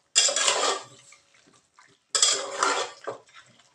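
Mutton pieces with whole spices in oil are stirred in a pan for dry sukha mutton, two loud bursts of metal scraping and clattering against the pan separated by a brief pause.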